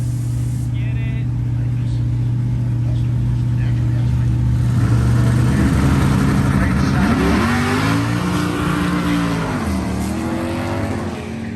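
A tuned car at Roadkill Nights on Woodward Avenue idles with a steady drone, then revs hard and accelerates loudly, the engine pitch climbing and shifting through gears while people talk nearby.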